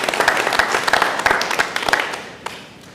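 Audience at a school board of education meeting claps together, a dense, fairly close round of applause with distinct individual claps that tapers off after a few seconds.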